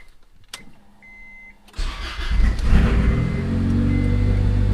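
A turbocharged Honda engine cranks briefly and catches, then settles into a loud, steady, high idle close by, with a faint electronic whine before the start.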